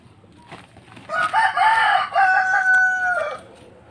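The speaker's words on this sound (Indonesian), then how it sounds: "Backsoundnya bagus ya teman-teman. Ada ayam." A rooster crows once nearby, a loud drawn-out call lasting a couple of seconds over quiet background.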